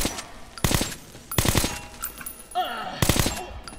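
Gunfire from a firefight in the video game Metro: Last Light: three loud, sharp bursts of rapid shots, each about a third of a second long, spaced apart, with quieter game sounds between them.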